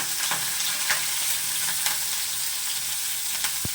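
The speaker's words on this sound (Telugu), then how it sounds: "కరివేపాకు కూడా వేసేస్తున్నానండి" Curry leaves and sliced onions frying in hot oil make a steady, close bright sizzle, dotted with small crackles and pops throughout.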